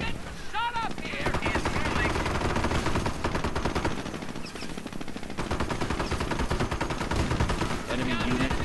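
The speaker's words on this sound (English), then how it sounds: "We're getting shot up here." Gunfire in the strategy game Company of Heroes: Tales of Valor, dense rapid machine-gun bursts rattling continuously at moderate loudness alongside scattered single shots and battle clatter.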